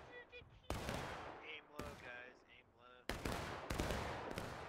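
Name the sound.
musket gunfire in video game War of Rights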